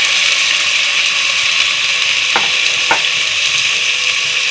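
Aloo gobi sizzles steadily in a pan with spices and tomatoes, a continuous loud frying hiss broken by two brief scraping stirs near the middle.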